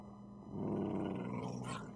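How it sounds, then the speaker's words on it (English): A low, rough growl from a dog in Minecraft rises about halfway in and holds steady, close and fairly quiet, with a brief higher scrape near the end. "Was it the dog? Is the dog mad?"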